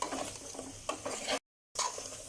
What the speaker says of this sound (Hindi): इसको अच्छे से हम मिक्स करेंगे